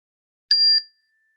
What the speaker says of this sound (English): we'll go ahead and start with a nice bell